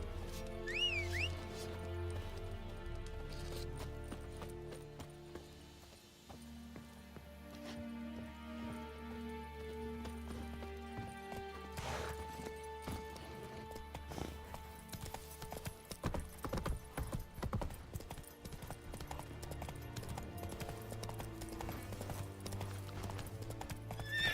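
Horse in The Witcher 3 video game gallops with steady clip-clop hoofbeats and whinnies, set against continuous game music; loud and close throughout, no talk.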